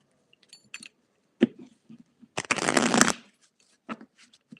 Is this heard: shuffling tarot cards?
yes